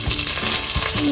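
Onion and garlic frying in a hot pan on a stove, giving a loud, close, steady sizzle with crackling spatter throughout, no voices.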